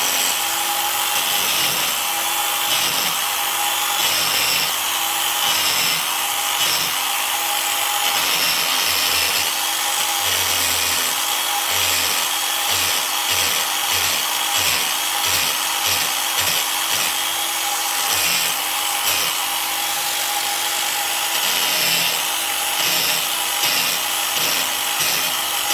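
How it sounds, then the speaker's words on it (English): A small grinding wheel scuffs the rubber sidewall of a torn tire in steady, continuous passes, a loud close abrasive whir with rhythmic surges as the wheel is worked back and forth, and no talking. "we're going to go to a small grinding wheel."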